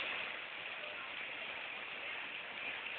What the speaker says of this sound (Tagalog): Napakalakas po ng ulan, mukhang hindi natitigil.